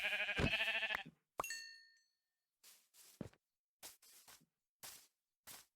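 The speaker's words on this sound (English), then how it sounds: "Oh, there's a sheep." A sheep in Minecraft bleats a loud, wavering call up close, followed by a bright chime and a string of short, sharp clicks and taps spaced irregularly against silence.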